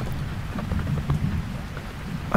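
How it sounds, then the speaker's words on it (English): Steady rain falls on a camping tent while deep thunder rumbles continuously and loudly beneath it. "Hello, Thunder."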